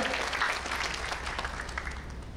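Church congregation clapping in praise during a worship service, a steady moderate wash of applause that holds evenly throughout without any voices on top.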